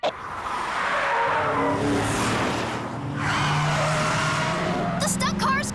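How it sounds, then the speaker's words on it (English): A cartoon stunt car skids off the tracks on a movie set, its tires squealing in long, loud screeches over a roaring engine, with voices and a sharp impact near the end. "The stunt car is coming off the tracks!"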